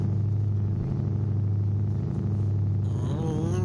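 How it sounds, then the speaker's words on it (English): A GT4 race car's engine idles steadily while waiting for the race start, a constant low rumble close by with a slight shift near the end and no talk. "Let's hear the engine of your car."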